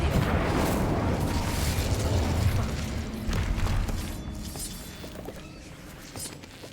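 An Incendio fire spell cast in the Hogwarts Legacy video game, a loud, rumbling burst of flame that roars steadily for several seconds, then slowly fades into softer crackles.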